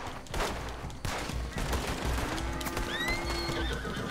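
A horse in Red Dead Redemption 2 whinnies loudly amid clip-clopping hooves, with bursts of gunfire from a shootout rattling around it and a long rising neigh near the end.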